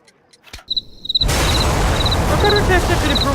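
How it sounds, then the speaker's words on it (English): In Sherlock Holmes: The Devil's Daughter, a homemade bomb made from an alarm clock ticks with bright, regular clicks, first alone and then under a loud, steady wash of noise. "A fancy ticking homemade gift from a secret admirer."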